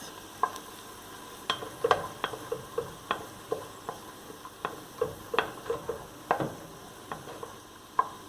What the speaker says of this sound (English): I am adding my onions, scallion, and garlic. And we'll just allow these to saute for about a minute.